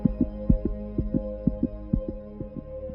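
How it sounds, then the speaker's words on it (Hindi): A heavy, pounding heartbeat thumps in a steady rhythm of about ten beats over a low hum, building dread in a Hindi horror tale set on a haunted train journey at night. "दिल की धड़कन जोर जोर से धड़कने लगती है।"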